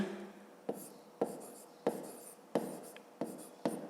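Pen writing in a school notebook during a fifth-grade maths exercise, close and quiet, with six short scratchy strokes at a steady rhythm and a soft scraping between them.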